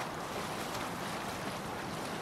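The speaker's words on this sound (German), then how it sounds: "manchmal ist das Verhalten des Bootes auf den Wellen so ein bisschen" A light boat rides ocean waves in Assassin's Creed Valhalla, steady washing surf and wind rushing continuously at a moderate level with no speech.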